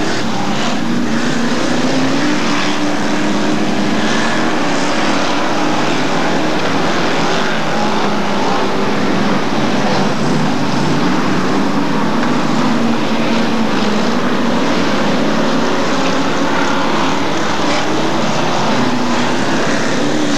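Hotstox short-oval race cars roaring round the Scunthorpe track during a grand final, a dense, continuous engine din with rising and falling revs from several cars at once, loud and unbroken for the whole stretch.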